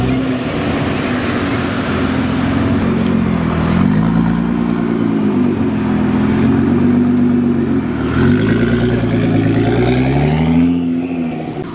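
A Maserati GranTurismo engine revs up and down in loud, throaty surges, rising and falling in pitch several times, close by.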